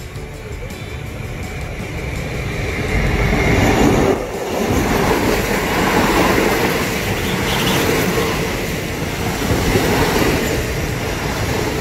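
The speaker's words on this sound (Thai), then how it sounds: "รถไฟมาแล้ว" A train rolls in loudly with rumbling wheels and rattling cars, a brief dip midway, then continuous heavy clatter and faint squeal as it arrives.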